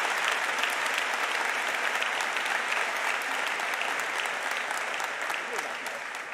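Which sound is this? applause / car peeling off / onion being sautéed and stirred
applause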